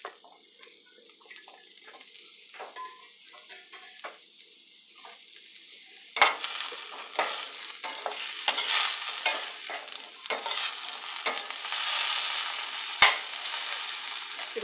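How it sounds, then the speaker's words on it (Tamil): Ivy gourd sautéing in oil in a pan for chutney, a quiet steady sizzle at first that grows louder and busier halfway through as the pieces are stirred, with scraping and clinking of a utensil against the pan. "இந்த கோவக்காய் போட்டு வதக்கிடலாம்."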